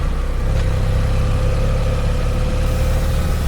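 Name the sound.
BMW F800 GS motorcycle engine running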